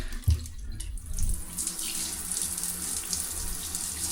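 Water gushing from a newly repaired shower after its valves are opened, a steady bright rushing spray with a couple of low thumps at the start, continuous and close, no talking.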